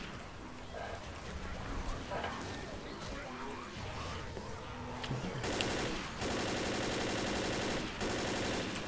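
Rapid mounted-gun fire in the zombie co-op shooter Left 4 Dead, a dense continuous burst that grows louder in the second half, mixed with game noise while several players chatter over it.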